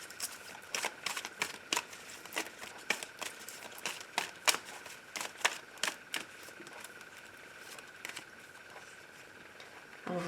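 Oracle cards for a love reading are handled and shuffled, making a rapid run of light papery flicks and taps, close and fairly soft, with no speech.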